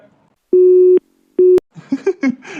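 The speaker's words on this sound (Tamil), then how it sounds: "நினைச்ச மாதிரியே போனை கட் பண்ணிட்டா" A cartoon phone line gives two loud, flat busy-signal beeps after the call is cut off, followed by a voice speaking.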